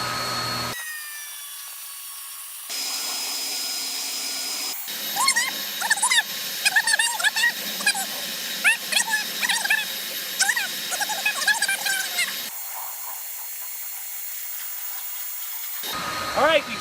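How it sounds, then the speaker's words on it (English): Three cordless leaf blowers, an EGO 56-volt, an ECHO 58-volt and a Kobolt 80-volt, run together with a steady broadband whoosh held for the whole stretch, while a voice talks over the middle section. "All blowers are still going strong"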